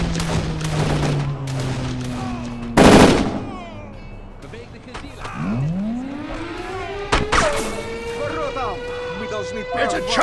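Rapid machine gun fire in the WWI-era shooter Darkest of Days, bursts crackling through a busy battlefield mix with explosions, music and shouted voices over it.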